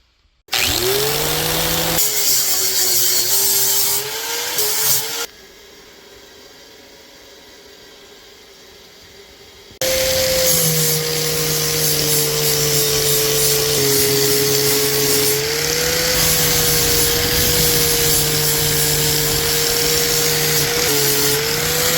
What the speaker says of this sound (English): Okay, that is as good as it's gonna get. Polished her up.